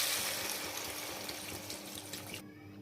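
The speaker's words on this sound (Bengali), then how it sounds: "এবার আমি জল দিয়ে দেব।" Water runs from a tap into a pan of mango chutney as it cooks, a steady splashing pour that stops abruptly near the end.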